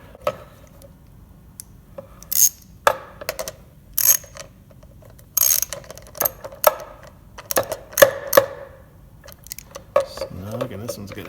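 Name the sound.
ratchet tightening bolts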